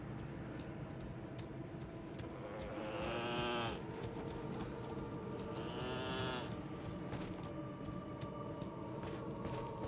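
A goat or sheep creature in the Abyssal Woods of Elden Ring's Shadow of the Erdtree, letting out two drawn-out, moaning bleats a few seconds apart over a dense, rumbling game ambience.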